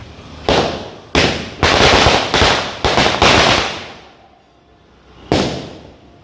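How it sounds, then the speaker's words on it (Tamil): Diwali firecrackers going off outdoors: a string of sharp, loud bangs in quick succession, then a lull before one last burst, each crack fading into a short echoing tail. "இந்த வெடி வெடிக்குமானே தெரியல"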